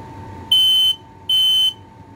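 A cheap Kidde i9040 smoke alarm sounds two loud, piercing electronic beeps in a row, each about half a second long, with short silences between them over a faint background hum.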